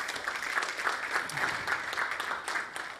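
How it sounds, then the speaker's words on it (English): Applause from a summit audience fills a hall, a steady even patter of many hands clapping, moderately distant, with no voices standing out. "you can applaud"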